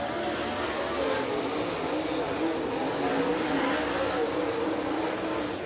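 Super late model race cars roar around a fifth-mile dirt oval in a qualifier, a dense, continuous engine drone with faint announcer talk beneath.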